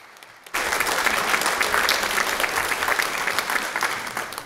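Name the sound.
congregation applause in church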